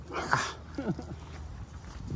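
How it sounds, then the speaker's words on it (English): Bully-breed dogs somewhere outdoors in south Florida give a brief, fairly faint bark or whimper that stands out over rustling outdoor background noise, with no voices over it. "Boy, there's some bully dogs."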